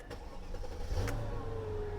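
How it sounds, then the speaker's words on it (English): A Bentley car engine runs with a smooth, quiet, steady hum, close by, with a faint mechanical tick and a slight rise in pitch partway through. "This is the quietest little engine"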